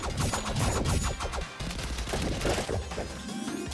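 Rapid, dense bursts of gunfire from the video game KUNAI rattle almost continuously and loudly, with a brief dip midway and a few heavy impacts, no talking.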